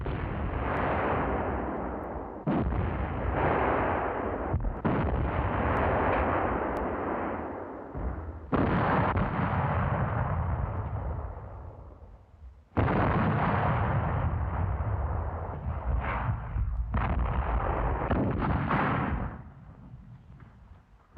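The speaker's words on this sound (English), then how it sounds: "The enemy replies with large caliber guns." Large caliber artillery guns fire in a series of heavy booms at the front, each blast followed by a long rumbling roar, about six loud shots spaced a few seconds apart with no talk.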